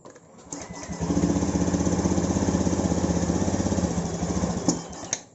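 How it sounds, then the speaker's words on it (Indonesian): A small Honda Vario 110 FI motorcycle engine cranks and catches, then settles into a steady, close, rhythmic idle that continues to the end. "setelah itu tinggal kita hidupkan motor"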